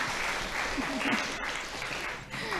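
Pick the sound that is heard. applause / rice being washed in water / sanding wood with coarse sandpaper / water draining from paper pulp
applause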